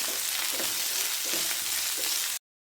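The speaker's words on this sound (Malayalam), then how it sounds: "ഇഞ്ചിയും വെളുത്തുള്ളിയും പച്ചമുളകും ചേർത്ത് കൊടുത്തു കഴിഞ്ഞിട്ട് ഞാൻ ചുവന്നുള്ളിയും കൂടെ അങ്ങ് ചേർത്ത് കൊടുക്കുകയാണ് എല്ലാം കൂടെ ഒന്ന് നന്നായിട്ടൊന്ന് വഴറ്റി എടുക്കണം" Ginger, garlic, green chili and shallots sauté in a pan, with a steady close sizzle and a few rhythmic stirring scrapes, brief and unaccompanied by talk, cutting off abruptly.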